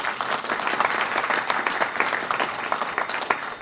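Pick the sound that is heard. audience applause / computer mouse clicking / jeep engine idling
audience applause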